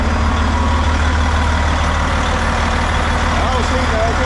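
A car engine idles steadily with a low, continuous rumble through the whole stretch while the exhaust is checked for leaks, with a voice speaking faintly in the background.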